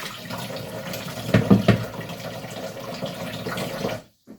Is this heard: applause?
no